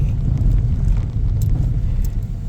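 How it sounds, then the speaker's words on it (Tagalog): Road traffic at night in Santolan, a steady low rumble of cars and engines that stays loud and unbroken for a few seconds, with no talking. "Traffic po tayo."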